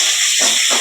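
Ginger and garlic sizzle loudly while sautéing in a pan, a steady, close hiss of hot oil with slight swells.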